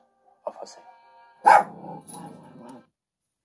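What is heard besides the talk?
dog barking and growling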